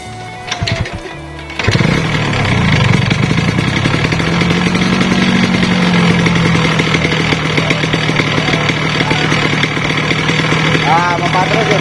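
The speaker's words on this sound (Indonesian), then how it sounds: "kita hidupin terus mesinnya sambil kita tarik sampai olinya keluar guys" A Yamaha RS 100 motorcycle engine runs close by while oil is drawn through a clogged side-oil line toward the carburetor. It catches after a brief rough start, then holds a loud, steady droning idle.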